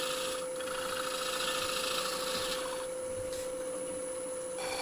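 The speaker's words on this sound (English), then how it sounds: "These are real light cuts. I'm using my long grind and just manipulating the tool round." A long-grind bowl gouge takes real light cuts on a spinning wooden bowl, giving a steady soft rasping scrape that runs continuously at low volume with no voices.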